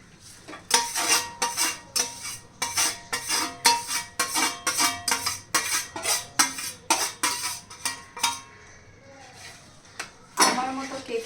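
A metal spoon scrapes and clanks rhythmically against a pan while semolina is stirred for upma, steady close knocks that pause briefly near the end.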